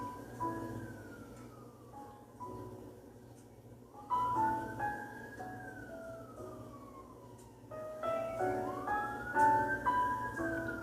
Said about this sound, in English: So many sirens outside tonight.